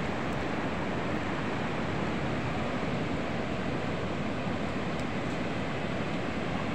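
Floodwater pushed by Typhoon Enteng rushes past in a steady, loud, unbroken roar of churning water, with no voices.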